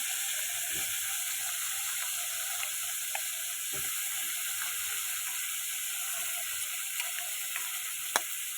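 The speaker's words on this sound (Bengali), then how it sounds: "ফুলকপি আলুটাকে একটু ভেজে নেব।" Cauliflower and potato frying in a pan give a low, steady sizzle with occasional faint clicks and stirring taps, quiet and unbroken, with no talking.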